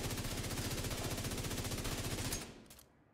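FAMAS assault rifle fired in full auto in the video game The Division 2, a rapid steady stream of shots that stops abruptly, leaving a short fading tail and a final click.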